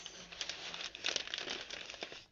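Quiet crinkling and crackling of adhesive tape being handled up close while wrapping an alstroemeria bouquet, in short irregular bursts.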